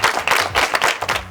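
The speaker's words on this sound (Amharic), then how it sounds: "ለአሜን አጨብጭቡላት።" Children clap together in a school setting, a brief burst of brisk, fairly loud applause with uneven overlapping hand claps lasting just over a second.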